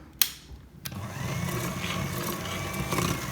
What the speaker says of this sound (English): But I have a whisk, so I'm going to use my whisk.